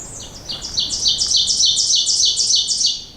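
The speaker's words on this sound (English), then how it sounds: "That's it right there. I believe that's the oven bird" An ovenbird sings beside a hiking trail, a loud, clear series of repeated two-note chirps that speeds up and grows louder before tapering off, ringing out close by in quiet woods.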